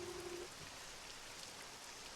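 Steady, faint rain falling everywhere in the video game Access Denied, a soft continuous hiss with a brief low tone at the start and no speech.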